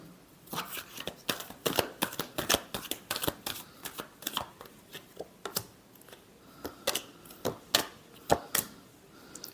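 Tarot cards are shuffled by hand in quick, repeated riffling bursts, close and crisp, with short pauses between each pass of the deck and faint speech underneath.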